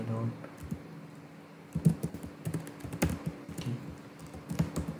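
Typing on a computer keyboard while writing a Python script: scattered clicks and taps with a few louder key strikes, close up, under a voice talking.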